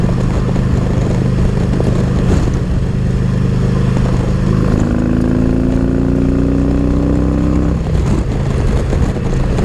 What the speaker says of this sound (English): I just love this Screaming Eagle, this 110 cubic inches big monster of an engine.